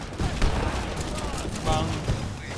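Rocket and gunfire strikes on a tank in the War Alert WWII real-time strategy game, a dense, continuous barrage of crackling shots and booms with swelling bursts, no voice over it.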